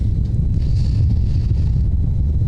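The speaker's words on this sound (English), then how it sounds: "Bit windy, huh? He has lots of wind in favor of him." Steady low roar of wind buffeting the microphone at an outdoor polo match, constant and loud throughout with no pauses.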